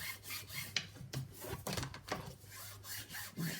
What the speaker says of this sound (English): And give that last bit of burnish.